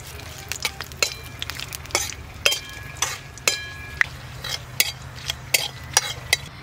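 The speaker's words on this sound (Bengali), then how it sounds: "তেলে দিয়ে সবকিছু ভালো করে ভাজা ভাজা করে নিয়েছি" Black cumin, dried chillies and bay leaves sizzle in hot mustard oil in a small pan, while a metal spoon stirs and scrapes in repeated sharp clinks over a low steady hiss.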